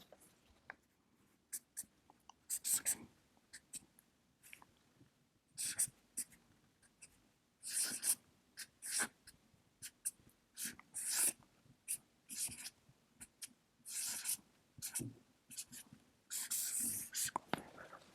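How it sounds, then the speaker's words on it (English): A formula being written out by hand for an inventory safety stock lesson, steady scratchy pen or marker strokes in short bursts with pauses, close and fairly quiet. "Let me first write it down, and then we'll go over the parts and what they are."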